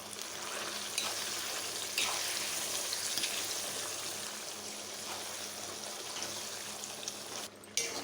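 Gongura chutney cooks in a tempering of cumin, dried red chillies, garlic, turmeric and curry leaves in a cast-iron pan, giving a soft, steady sizzle broken by a few faint stirring taps and clinks, with no talking.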